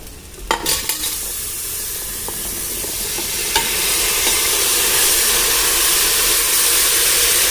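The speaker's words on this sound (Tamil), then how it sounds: "நல்லா வதக்கிடலாம்." Carrot, beans, potato and drumstick pieces sauté in a hot pan for rice and dal, a steady loud sizzle with a few sharp stirring scrapes near the start, no talk.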